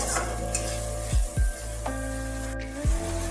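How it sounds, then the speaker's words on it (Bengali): Spices with tomato paste and garlic fry for a chicken dish, sizzling steadily in the pan while a spoon stirs them and knocks against the pot with three or four sharp clanks. "এবার মশলাগুলো ভালোভাবে একটু নাড়াচাড়া করে নিতে হবে।"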